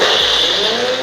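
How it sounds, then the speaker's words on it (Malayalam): A mixer grinder blends chicken burger patty mix in a jar: a loud, steady, high-pitched motor whir that holds for about a second. "ഇനി നമുക്ക് മിക്സി ജാറിലിട്ടിട്ടൊന്ന് ബ്ലെൻഡ് ചെയ്തെടുക്കാം."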